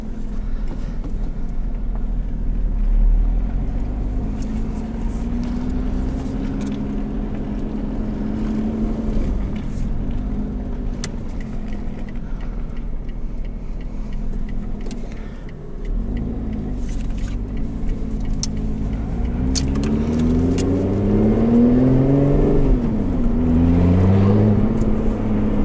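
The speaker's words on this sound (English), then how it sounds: "Press for sport mode. Opens the exhaust up." A 2021 Lotus Evora GT with sport mode engaged and its exhaust opened, heard from inside the cabin as a steady loud engine drone that climbs into rising revs near the end.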